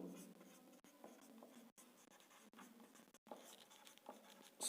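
Chalk or marker writing on a board during a Class 8 maths lesson on types of quadrilaterals, with steady scratchy strokes broken by brief pauses, close and fairly quiet, no talking.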